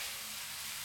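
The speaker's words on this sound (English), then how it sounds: "I'm going to let the sausage fry together with the onion" Sausage and onion fry in a pan with a soft, steady hiss and sizzle, faint and unbroken for a brief moment, with no voices.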